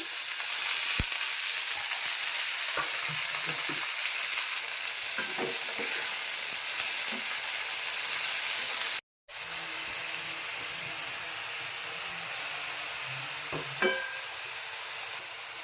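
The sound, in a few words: greens frying with fried onions in pan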